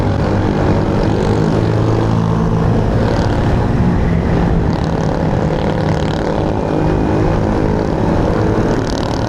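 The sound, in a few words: motorcycle engine straining while climbing uphill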